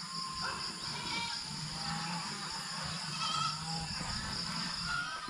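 Goats on a farm bleat over and over, close and fairly loud, with steady outdoor background noise behind them.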